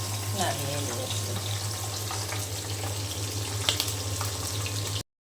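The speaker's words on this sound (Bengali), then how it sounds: "তেল ছিটকাচ্ছে।" Hot oil spatters and crackles steadily in a pan where fish and onions are frying, a dense close sizzle with scattered pops running for about five seconds before cutting off abruptly.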